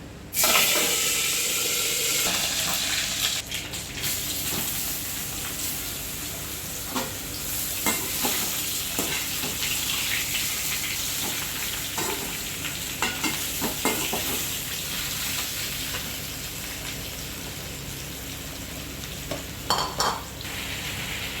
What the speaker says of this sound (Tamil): இந்த கருவேப்பிலை போட போகிறேன்.